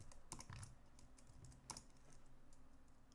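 Code in RPG is typed on a computer keyboard, with faint, irregular bursts of clicking keystrokes and short pauses between them.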